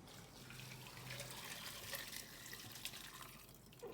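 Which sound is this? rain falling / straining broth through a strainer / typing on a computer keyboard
straining broth through a strainer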